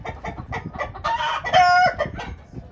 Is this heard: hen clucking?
yes